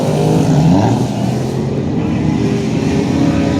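Ford Taurus drift car with a full rear-wheel-drive conversion, its engine droning loud and steady with a rough low rumble at a drift event, near and continuous throughout.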